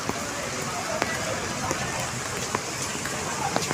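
Steady rain hisses down, with occasional louder drops tapping nearby over the constant wash.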